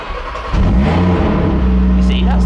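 A 2.5-litre turbocharged five-cylinder Audi RS3 engine starting up and revving, a sudden loud surge settling into a deep, steady burbling idle, heard close with a voice briefly over it.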